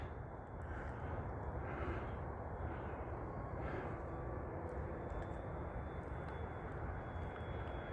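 An RC model airplane flying aerobatic loops and rolls on a Sunday morning, its engine a steady, fairly distant buzzing drone that swells slightly as it passes, with no voices over it.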